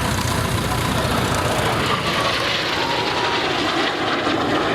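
A Folland Gnat, the small jet once flown by the Red Arrows, roars steadily through an airshow display, its broad engine noise loud and constant throughout, with no clear voice over it.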